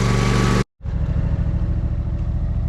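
A lawn mower mulching frozen leaves runs loud and close, cuts out abruptly for a moment, then returns as a steady, gritty engine drone with no talking.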